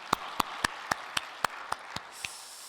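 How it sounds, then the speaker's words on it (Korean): A church congregation gives a short round of applause after worship, about nine crisp, evenly spaced claps that come across as a small, fairly quiet ovation fading toward the end. "감사의 영광의 박수 한번 올려드리겠습니다."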